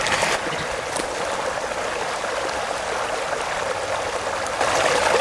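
Water whirling and dribbling out of a Sawyer Squeeze water filter as it is spun by hand, a steady close splashing hiss with brief louder bursts at the start and end, no voices.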